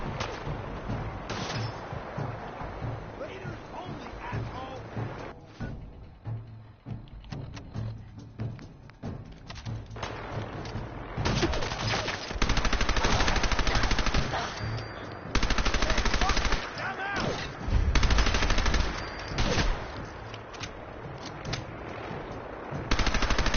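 Rapid gunfire from the video game Fallout 4, bursts of automatic shots and heavier booms that grow louder and denser toward the end, with brief quiet gaps between volleys.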